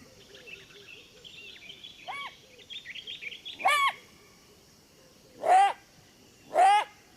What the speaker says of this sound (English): The jackal's barks mean that large predators are on the prowl.